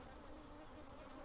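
Honeybees buzz around an open hive being split, a dense steady drone with no gaps. The swarm sounds close and fairly loud throughout the brief stretch, and no one speaks.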